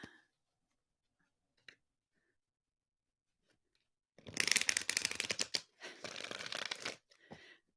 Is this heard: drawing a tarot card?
yes